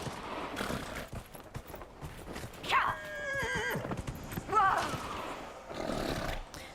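In the video game Dragon Age, a horse gives two strained neighs with rising and falling whinnies, its hooves clopping underneath, while faint game ambience fills the gaps.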